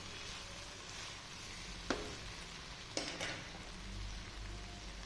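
Spoon working through soft cooked potatoes in a frying pan, a low steady sizzle with a couple of distinct metallic taps and scrapes standing out.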